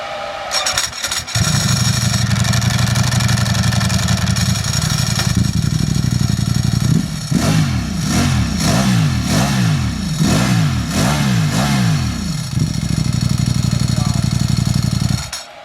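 A Ducati Streetfighter V4 Lamborghini special-edition motorcycle engine idling loudly up close, then blipped through a rapid series of sharp revs rising and falling before settling back to a steady idle.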